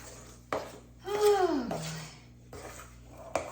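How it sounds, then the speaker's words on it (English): A spoon scrapes and knocks around a pot of thick homemade play dough: a few short clunks and one longer squeaky drag, fairly quiet and close. "It's definitely getting harder to stir."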